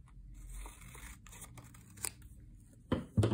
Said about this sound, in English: We're actually gonna cut that off.